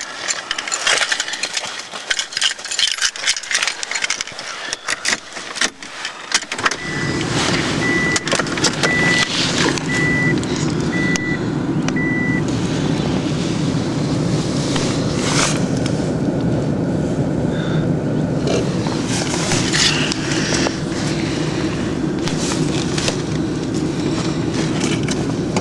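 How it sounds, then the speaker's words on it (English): A 1991 Honda Accord engine cold starting after a few seconds of quiet background noise, catching abruptly and then idling with a steady, close, continuous drone for the rest of the time. "You can always depend on your Honda Accord to start even"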